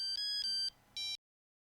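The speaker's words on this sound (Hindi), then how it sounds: "माजोनी का फोन।" A synthetic phone ringtone chimes in two short electronic bursts separated by a brief pause, loud and close, with no voices.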